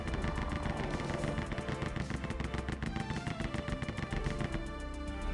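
Rapid continuous gunfire in the video game Rise of the Triad, a loud, dense stream of fast repeated shots lasting the whole stretch, with no voices.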